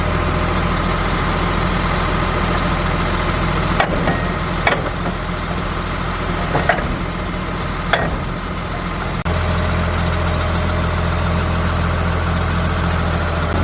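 A farm tractor's engine idles steadily and loudly while being maneuvered to hitch a trailer, with a few sharp metallic knocks and clanks from the hitch cutting through the constant drone.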